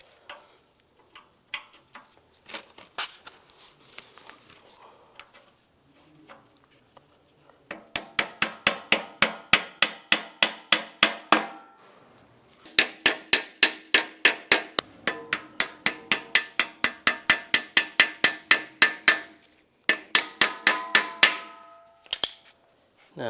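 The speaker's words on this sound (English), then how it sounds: "Might have to tap them on with a little hammer." A small hammer taps A/C condenser mounts into place on a 1999-2005 Volkswagen Jetta, with dozens of light, quick metallic taps in rapid bursts separated by short pauses, close and clear, with no voices.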